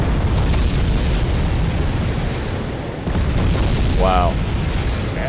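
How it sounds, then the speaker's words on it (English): Air force bombs explode in the video game Wargame: Red Dragon in a rumbling, continuous barrage of loud booms. A voice briefly exclaims over the blasts near the end. "Here come the bombs."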